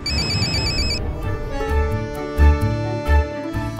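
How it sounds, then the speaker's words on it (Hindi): Telephone ringing in an Indian TV drama scene, an electronic ring tone pulsing for about a second, followed by musical background tones with low thumps. "अपना तो फोन आ गया"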